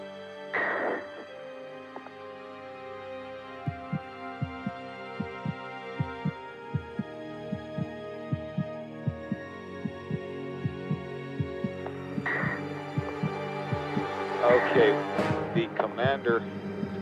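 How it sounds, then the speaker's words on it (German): Racing heartbeat effect, a rapid regular thumping pulse under a droning tonal music bed, with swelling accents near the start and end. "Die Astronauten bekommen solches Herzrasen"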